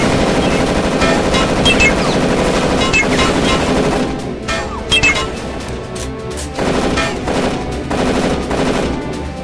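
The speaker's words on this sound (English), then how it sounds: "now everyone's going to be shooting at me" Heavy automatic gunfire and bursts of shooting from many enemies during a turret section of the video game Darkest of Days, loud, dense and continuous, with rapid rattling fire and occasional impacts throughout.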